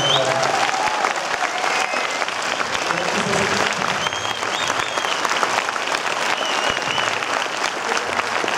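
Sustained, loud audience applause for a presentation, many hands clapping in a thick continuous roar with a few faint voices mixed in, holding steady throughout.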